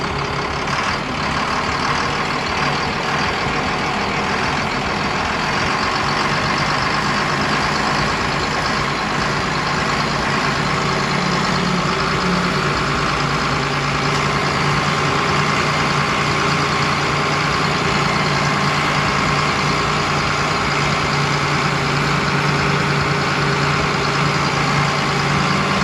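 A 1970 Ford F250 with a 12V Cummins diesel and Allison 1000 transmission drives along, its loud, steady diesel drone and rattle running continuously at close range without speech.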